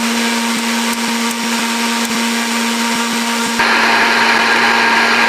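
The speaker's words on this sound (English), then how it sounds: "No, kids, we're gonna blend it up." A blender whirs loudly and close while blitzing ginger-infused water into a green smoothie, a constant motor whine with a few clicks, then the pitch shifts and grows harsher near the end as the load changes.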